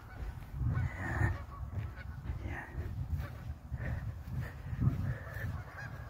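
Geese on a lake honk repeatedly in a loose, overlapping chorus, the calls fairly close and carrying steadily with little else around them.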